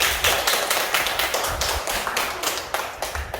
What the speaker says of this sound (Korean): 이럴 때 박수 좀 주세요.